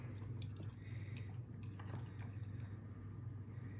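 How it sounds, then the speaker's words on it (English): Soaked overnight oats stirred in a container the next morning, soft wet squishing and dripping sounds close up over a low background hum, no voices. "Give it a little stir."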